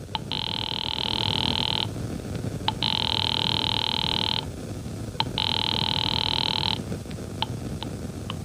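An old-style telephone rings three times in long, evenly spaced bursts, with short clicks between rings, over a steady hiss of background noise, no voices.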